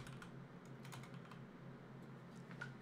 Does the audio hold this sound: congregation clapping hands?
no